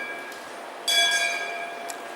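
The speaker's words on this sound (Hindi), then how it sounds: "ये घंटी मत बजाओ" A small metal bell rings once during a devotional lecture gathering, a bright struck tone that sustains and slowly fades, followed by a faint second touch, heard near against a quiet room.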